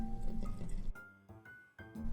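Briny liquid drained from a can, splashing and dribbling out in an uneven stream that breaks off and restarts a couple of times, close and clear with no talking.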